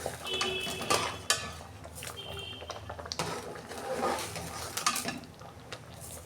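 Spoon clinking against a bowl as sugar goes into a mango, date and nut ice cream mix in a home kitchen, with several light metallic taps and scrapes scattered through the stretch.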